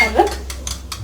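A utensil stirs an oil mixture in a bowl for malawi (melwi) flatbread dough made with lard. One close clink against the bowl is followed by a few soft, brief scraping swishes.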